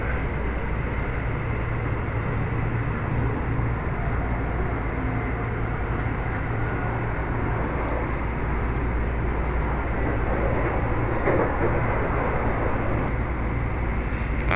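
Steady low rumble and hum of a moving train carriage heading to Jakarta Kota, constant throughout with faint rattles and no talking.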